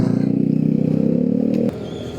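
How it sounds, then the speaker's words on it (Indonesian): A motorcycle on the road near Soekarno-Hatta airport, its close, buzzing engine holding steady for under two seconds before cutting off abruptly to quieter road noise. "Dibalap motor ini lagi."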